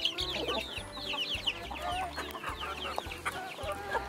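Several chickens cluck continuously with higher chirping from chicks mixed in, a busy close-up flock chatter with no talking.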